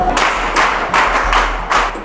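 A studio audience on a French TV quiz show claps for a contestant, a handful of loud, close, separate bursts of clapping spaced irregularly rather than a sustained ovation.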